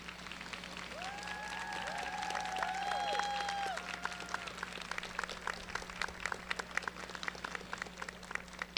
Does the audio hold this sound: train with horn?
no